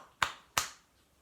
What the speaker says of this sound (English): I have now clapped for the NHS.